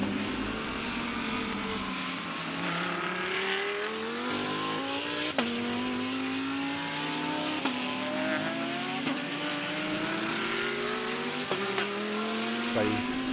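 GT race cars including a Mercedes race at the Shanghai circuit in a Blancpain GT Series Asia event, engines revving up and shifting repeatedly in rising and falling whines, with a commentator talking over them.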